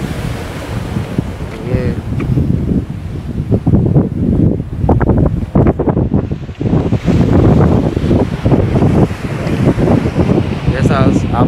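Atlantic Ocean waves surge and break against a seawall at a Kingston, Georgetown, Guyana beach, a loud continuous roar with gusty wind noise on the microphone and a brief voice.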